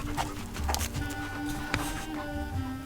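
A small dog whimpers and yips in short, close whines, with brief soft panting between and a faint voice in the background.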